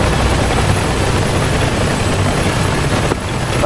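Military helicopters in a video game, a loud steady rotor and engine drone with heavy low-end thumping throughout, briefly dipping near the end.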